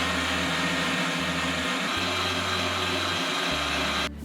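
Vegan marble cake batter being mixed by an electric mixer or blender, a loud steady motor whir that pulses on and off in several bursts before cutting out near the end.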